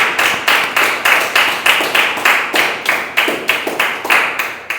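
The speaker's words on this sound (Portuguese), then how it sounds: "Aplauda o nome do Senhor Jesus" A church congregation claps in unison to a worship song, about sixteen sharp rhythmic beats in a steady even tempo, loud and close, with no speech over it.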